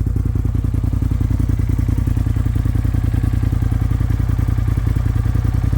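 A heavy Polaris RZR XP Pro turbo UTV engine rumbles up close, its Trinity full exhaust throbbing in a fast, regular beat that holds steady the whole time, nothing else heard.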